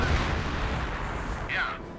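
Mortar and artillery fire in the World War II strategy game Company of Heroes, a low rumbling barrage of booms rolling continuously beneath battlefield noise and a talking voice.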